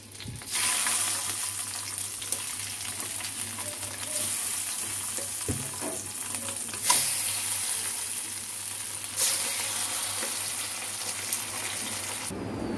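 Pabda fish frying in oil in a frying pan, a steady loud sizzle running continuously from start to finish, with a few brief clinks of stirring or turning.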